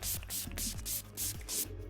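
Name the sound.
spraying Urban Decay All Nighter makeup setting spray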